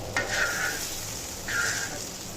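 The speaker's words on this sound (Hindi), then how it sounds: "इसको इस तरह चमचे की मदद से आगे पीछे करेंगे ताकि तमाम भिंडियों अच्छी तरह फ्राई हों।" Okra frying in oil, moved back and forth with a spoon in a pan, gives a soft steady sizzle with two short scraping stirs.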